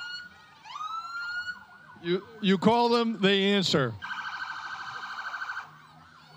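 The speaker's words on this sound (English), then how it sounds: "And here's the Mohegan Volunteer Ambulance Corp." A volunteer ambulance corps unit in a holiday electric lights parade sounds its siren, with rising wails at first and then a fast warbling yelp. Someone speaks over the middle stretch, before the steady warble continues alone.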